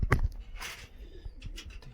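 Pigeons kept as pets coo softly in brief bursts, with faint rustling and a low background hum around them.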